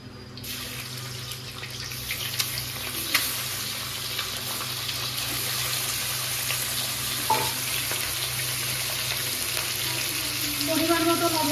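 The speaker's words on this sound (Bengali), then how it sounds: "তেলটা গরম হয়ে গেছে। ফোড়নের জন্য শুকনো লঙ্কা আর জিরে, কাঁচা জিরে।" Dry red chillies and cumin seeds crackle and sizzle in hot oil in a Bengali prawn and taro curry, a steady close frying hiss with scattered pops, then shrimp go in and the sizzle swells louder toward the end.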